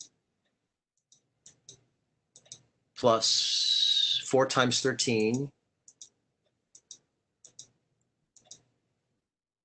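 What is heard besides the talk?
typing numbers on a computer keyboard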